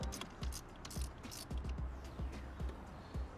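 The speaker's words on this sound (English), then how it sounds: "I'm going to use a socket on this just to get started" A socket ratchet loosening a car battery terminal nut, giving a quiet, steady series of metallic clicks up close.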